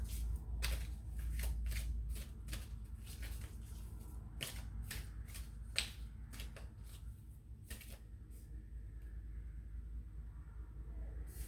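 Tarot cards being shuffled by hand, a steady run of quick, crisp riffling bursts close up, thinning out toward the end over a low room hum, with no talk.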